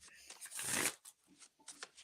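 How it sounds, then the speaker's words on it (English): A deck of tarot cards is shuffled in one dense riffling burst, with lighter flicks and taps of cards around it, close and fairly quiet. "This deck shuffles so good, Celina."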